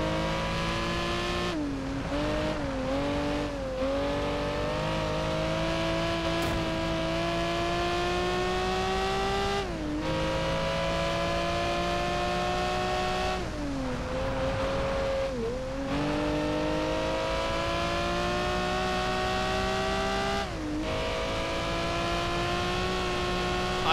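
A race car engine in Project Gotham Racing 4 drones loud and steady throughout, its pitch climbing through the gears and dropping sharply at several shifts, alone with no talk.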